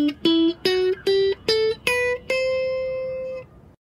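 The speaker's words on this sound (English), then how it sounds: "In ascending order, C Lydian sounds like this." A guitar plays a C Lydian scale upward, seven clear plucked notes stepping evenly higher, the last one ringing out and slowly fading, alone and close.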